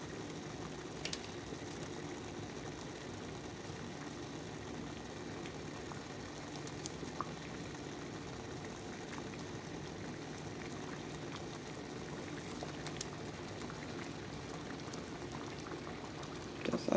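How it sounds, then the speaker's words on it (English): Water at a roaring boil with orange peel added for tea, bubbling steadily and continuously at moderate level with no talking. "And then you're gonna cover it and let it boil for a minute or two."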